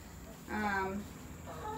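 Hens clucking inside their new coop with roosting bars, a short burst of harmonic calls mid-clip and another starting near the end, fairly close over a steady background hum.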